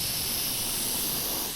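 A store-bought aerosol spray paint can hisses in one steady, unbroken burst while a car part is coated, close and continuous with no pauses.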